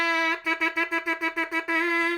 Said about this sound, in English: But if I do that in the mouthpiece, it's so much better. It sounds like this.